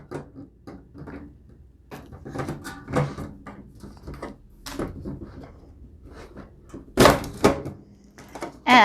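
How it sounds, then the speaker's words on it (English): A drawer is fitted into a monitor riser stand for a desk, heard as a run of close scraping slides, taps and clunks. Two louder knocks near the end sound as it is pushed home. "Now that we have that assembled, we are going to add our drawer."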